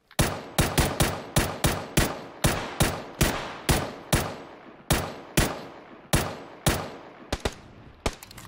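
Shots ring out in PUBG: roughly twenty sharp, loud gunshots in uneven bursts and single cracks, each with a short decaying tail, with no voices.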